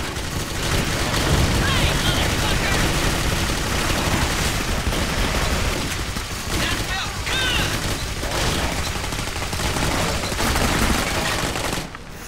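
Dense, loud gunfire rattles almost without pause for about twelve seconds in the Jericho shooter game, with rapid automatic bursts and booms layered together and voices shouting underneath.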